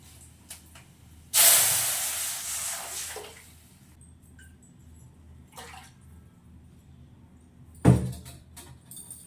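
Mustard seeds and dried red chillies hit hot oil in a village kitchen, bursting into a loud hiss that fades over a few seconds, followed by quieter crackles and a second brief sizzle flare.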